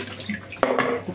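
Tap water runs into a kitchen sink while egg containers are washed, a continuous splashing rush with a brief clatter of handling partway through.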